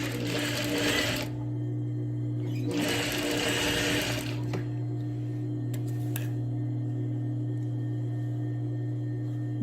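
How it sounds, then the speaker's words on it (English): A single needle sewing machine stitches a long straight seam on a girl's dress. Two loud, close bursts of rapid whirring stitching are followed by quieter clicks and handling over a constant low motor hum. "it's a little bit easier to do on my single needle here"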